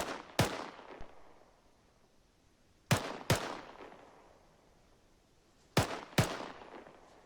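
Arma 3 rifle fired in three sharp double-tap pairs spaced a few seconds apart, each crack followed by a fading echo against an otherwise quiet background.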